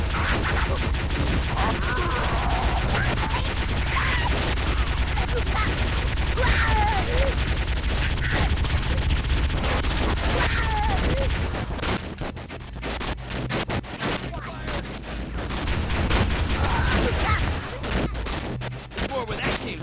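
A mounted turret firing in a Halo game: long, loud, rapid bursts of automatic fire that run almost without pause, with brief gaps late on and voices talking over them.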